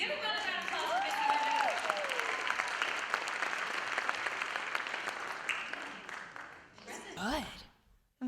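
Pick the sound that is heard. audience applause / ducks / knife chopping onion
audience applause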